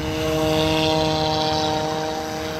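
A scratch-built RC rescue airboat's propeller runs at full throttle with a loud, steady, close-up motor drone and a constant tonal buzz.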